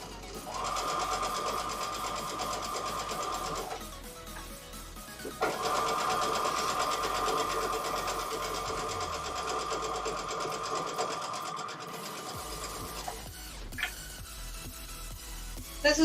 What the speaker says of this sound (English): I'm getting some nice long sewing lines in here.